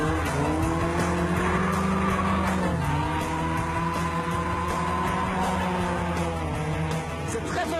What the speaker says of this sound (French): je rentre un peu sur les freins, la voiture se met en travers